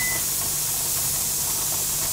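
Steady broadband hiss of steam escaping from a canner on the stove beside a hot oven, loud and continuous throughout, with a brief high tone near the start.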